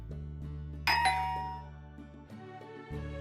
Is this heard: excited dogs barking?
no